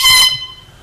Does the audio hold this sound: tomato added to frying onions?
no